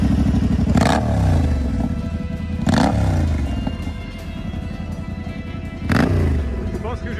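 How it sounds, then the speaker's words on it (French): A motorcycle with a free-flow open exhaust, on a desert raid, blips its throttle three times, each sharp loud rev falling away into a rough idle, close by, with voices in between. "Fais-moi écouter cet échappement libre s'il te plaît"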